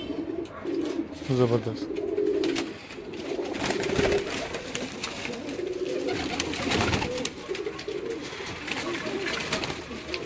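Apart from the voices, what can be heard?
Teddy pigeons cooing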